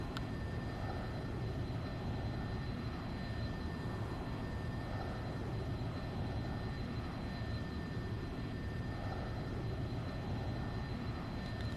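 A big passenger jet comes in to land in a flight simulator game, its engine a steady, even drone with a faint high whine running throughout, continuous and unchanging.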